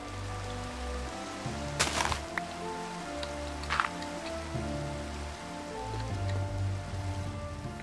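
Rain falls in a video game as a soft, steady patter on surfaces, with low synthetic tones and a couple of brief louder rushes layered over it.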